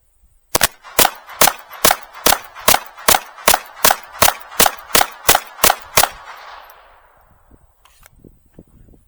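An FN 502 pistol fitted with a compensator fires rapidly, about fourteen sharp, loud, evenly spaced cracks in quick succession, then stops and leaves a fading echo with a few faint clicks.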